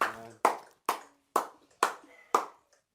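A worshipping congregation at a midnight prayer service claps hands together in six sharp, separate claps spaced about half a second apart, close and loud, each clap ringing briefly in the room, with a bit of voice before the first.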